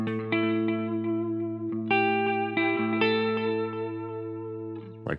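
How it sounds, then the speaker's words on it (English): An electric guitar played through the tape echo effect of a NUX Mighty Plug Pro rings out in sustained chords, each strum repeating with soft, smeared echoes, loud and alone. "Tape echo, which is usually the one that I usually go for."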